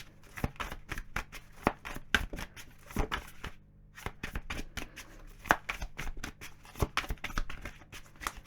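Tarot cards riffled and shuffled in quick, crisp bursts, with a short pause partway through, close up and fairly quiet.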